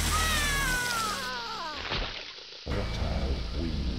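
A pet cat meows in a rising, wavering cry close by, followed by a soft thump and quieter room sounds.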